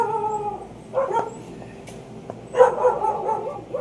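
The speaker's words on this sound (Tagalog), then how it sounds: "Nagkakagulo na naman ang aso sa baba." Dogs down below bark and howl in a couple of short bursts at a moderate distance, with quieter whining and yips between them.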